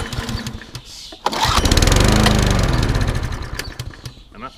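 A Honda HRB423 lawn mower with a fuel fault sputters briefly, then its engine surges into a loud, rough run for a couple of seconds before dying back down.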